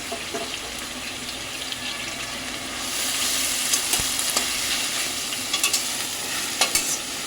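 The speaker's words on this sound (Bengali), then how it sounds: "আমি পেঁয়াজটাকে ভাজছি" Continuous sizzling of onions frying in mustard oil, growing louder partway through, with occasional scrapes and clinks of stirring.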